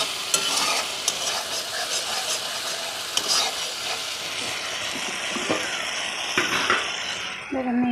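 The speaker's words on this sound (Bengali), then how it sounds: "এটা ভালো করে নাড়িয়ে নিয়ে তেল ছাড়তে শুরু করেছে অলরেডি" Poppy seed paste frying in oil for a potol posto dish, a continuous close sizzle broken by frequent scraping stirs of the spatula.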